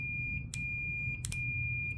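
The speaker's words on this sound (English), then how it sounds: "pulled out my multimeter and just put it on a continuity test" A steady high electronic tone from a multimeter continuity test sounds continuously, with a few brief clicky bursts of probe contact noise over a low background hum.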